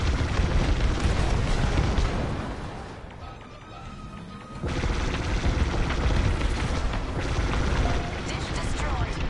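A dish is blown apart in Star Wars Squadrons, a loud, dense, roaring explosion with crackling debris that dips briefly before surging back into sustained rumbling blasts.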